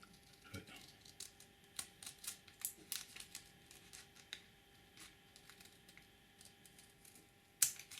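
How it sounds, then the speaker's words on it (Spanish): Scissors cut through paper while a paper rose is being made, giving faint, sharp snipping clicks scattered irregularly, with a louder snap near the end and no talk. "para eso cogemos unas tijeras y cortamos y eliminamos este papel que nos sobra"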